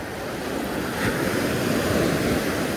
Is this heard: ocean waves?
yes